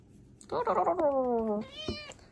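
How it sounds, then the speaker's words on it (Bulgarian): A cat meows at a window in a long, drawn-out cry with falling pitch, then a second higher meow follows, close and clear, with a faint hum underneath. "И ето го моят помощник Мяу-мяу, който постоянно бди на прозореца."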